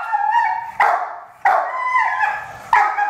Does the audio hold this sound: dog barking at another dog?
yes